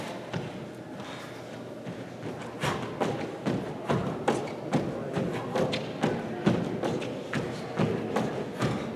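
Feet land repeatedly from L jumps in a warm-up workout, producing a steady series of dull, close thumps at a regular rhythm, growing a little firmer partway through.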